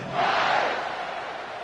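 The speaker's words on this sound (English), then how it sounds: "this crowd is feeling themselves after that last drive" Football stadium crowd at a Texas game roaring and cheering after a drive, a dense, loud wash of voices swelling in the first half second and holding steady throughout.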